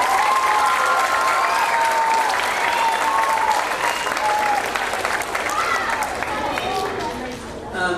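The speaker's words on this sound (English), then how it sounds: "let's give Ms. Smith's class a big round of applause" An elementary school audience applauds a fifth-grade graduating class with loud, sustained clapping and cheering that fills the space and tapers slightly toward the end.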